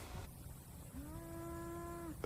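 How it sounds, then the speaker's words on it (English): A single cow moos outdoors, one long, low, sustained call that holds steady for over a second, faint and somewhat distant, with a soft drone hum in the background. "That cow is way louder than that drone."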